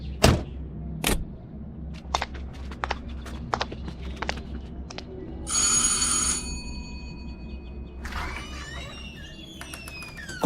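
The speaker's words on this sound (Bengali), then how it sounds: "কলিং বেল টিপতে চাকর এসে দরজা খুলে দিতেই" A door calling bell rings in a short electric burst, amid scattered footsteps and clicks around a house entrance, then a second bright ringing tone follows near the end.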